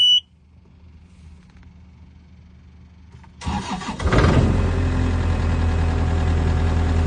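A Takeuchi skid steer that would not start beeps briefly, then sits in near silence before its engine cranks and catches. It settles into a loud, steady, close-up diesel idle.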